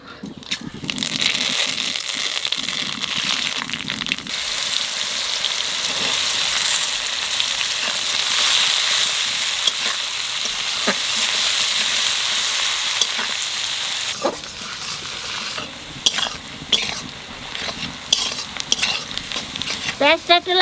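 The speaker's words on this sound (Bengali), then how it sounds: "তেলের মধ্যে দিয়ে দেবো কালো জিরে আর তেজপাতা।" Nigella seeds and bay leaves sizzle and crackle in hot oil in a pan for Bengali fish curry, a dense, continuous frying hiss with occasional stirring clinks and scrapes close by.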